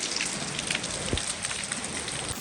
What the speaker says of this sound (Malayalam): വന്നേക്കാളും മഴയാണ് സത്യം പറഞ്ഞാൽ.